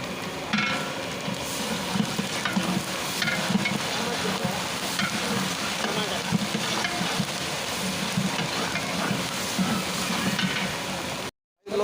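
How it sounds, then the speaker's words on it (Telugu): Dried red chillies, curry leaves and asafoetida fry in hot oil with a steady, dense crackling sizzle and occasional stirring clinks, close and continuous with no speech, cutting off abruptly near the end. "ఎండుమిరపకాయలు కరివేపాకు ఇంగువ వేసేసుకొని ఆయిల్లో మంచిగా"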